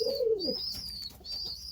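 Pigeons in a loft give a soft, low cooing call near the start, with thin high chirps and light rustling continuing around them in a quiet indoor space.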